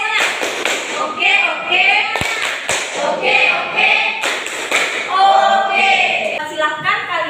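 A classroom of students performs a rhythmic group clapping routine, loud and close, with sharp thumping claps in short bursts while voices chant and talk throughout.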